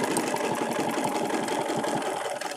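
A sewing machine runs steadily, stitching a feather quilting template around the edge of a quilt project, its needle chattering in a fast, even rhythm close by for the full stretch without pause or voices.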